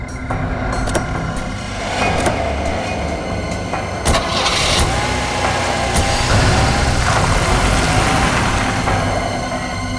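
A car engine cranks and starts, then settles into a steady, loud idle with a low rumble and a few sharp knocks over the top.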